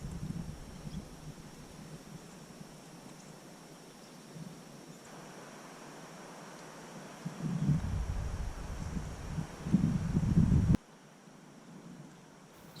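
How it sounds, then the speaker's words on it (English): Wind blowing through woods during an Alabama spring turkey hunt: a steady low rush punctuated by stronger gusts that swell into heavy buffeting against the microphone, then drop off abruptly, with no talk. "You can see the wind blowing pretty good."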